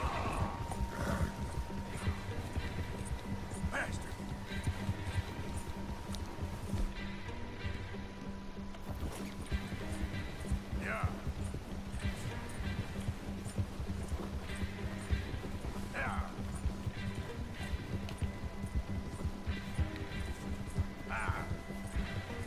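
Hoofbeats of a fast horse in the video game Red Dead Redemption 2 clop rhythmically under a constant rumbling background, with occasional whinnies and faint voices mixed in.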